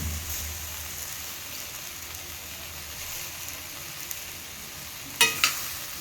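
A tomato, onion and lemon snack mix fries in a hot kadai with a steady soft sizzle, broken near the end by a couple of brief clinks of a stirring utensil.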